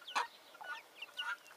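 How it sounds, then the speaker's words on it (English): A young rooster gives short clucking calls nearby in a farmyard, three soft bursts spaced across the moment with quiet chirps in between. "You're a little rooster"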